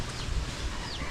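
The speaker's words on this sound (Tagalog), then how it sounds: "Aba, nagkamanok ako ng hindi oras. May manok na sa loob oh." A chicken clucks indoors inside a house, with a hen and her chicks present. The clucks are short and fairly close over a noisy background.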